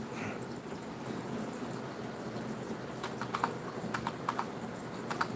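Typing on a computer keyboard at a desk, faint at first, then a run of sharp, irregular key clicks close by that pick up in the second half over a low room hiss.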